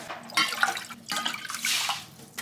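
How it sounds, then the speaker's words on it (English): Water poured into a cooking pot with a little oil in the bottom before adding rice, a splashing, trickling pour in two close bursts with a brief pause between them. "I'm gonna do some oil at the bottom, 2 cups of water"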